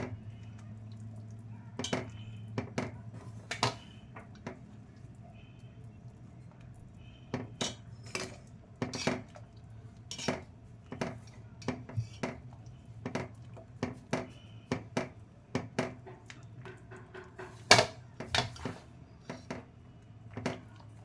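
Gram flour mixture in a pot over low heat is stirred nonstop, sounding as a steady run of light clinks and scrapes of a spoon against the pot over a faint background hum, with a few short pauses.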